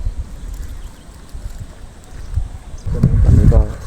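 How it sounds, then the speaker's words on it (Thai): Strong wind buffets the microphone outdoors, low gusty rumbles rising and falling and swelling into a heavy blast near the end. "โอ้ลมแรงครับผมวันนี้"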